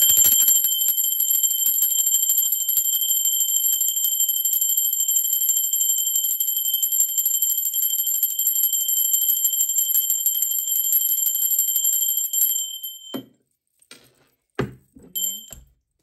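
A bell rings during a tarot reading, a bright sustained ringing tone held for about twelve seconds, then cut off, followed by a few soft knocks and handling sounds.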